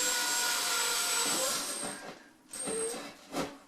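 A power drill bores into a house wall, a steady whirring grind that dips and surges as pressure changes, close and moderately loud with no talking.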